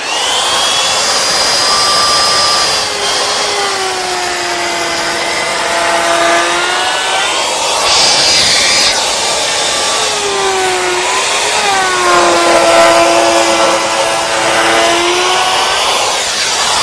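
A Bosch flush trimmer router runs along the edge of a laminated board, a loud continuous high-pitched motor whine that rises and dips in pitch as the bit cuts, with no voices.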